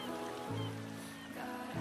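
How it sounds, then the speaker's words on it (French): Seaside birds calling, a string of nasal honking, quacking cries at moderate distance, several overlapping calls in quick succession against a faint outdoor background. "Ah, les oiseaux."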